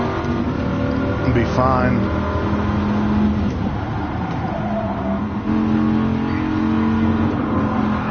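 Stock car engine in Gran Turismo Sport, running steadily on a track with sustained drone and occasional pitch rises under near-continuous talk from a player.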